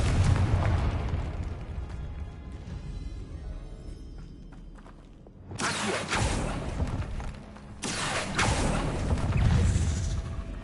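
Confringo fire spells bursting in the game Hogwarts Legacy, loud booming blasts over dense game ambience, with two sharp bright eruptions midway and near the end.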